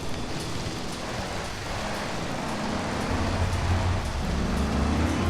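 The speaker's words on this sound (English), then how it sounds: "And it's raining." Steady, hissing rain falls in the streets of Liberty City in Grand Theft Auto 3, a constant wash of noise, with a low engine-like rumble rising underneath during the second half.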